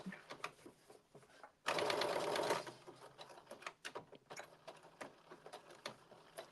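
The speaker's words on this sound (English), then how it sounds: "put your needle down with your sewing machine, and then push down your presser foot, and you're going to back stitch all the way across to the big dot" A sewing machine runs a single fast back-stitch burst of about one second, close and loud, amid quiet handling and fabric rustle while sewing a blazer.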